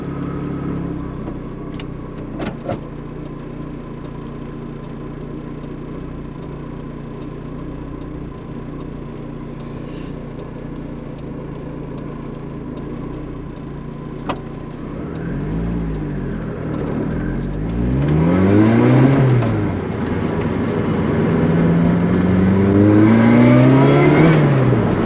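A Lotus Exige S cruises toward the motorway at twilight, its engine a steady low hum that swells as the car accelerates, with rising and falling revs through gear changes growing louder near the end.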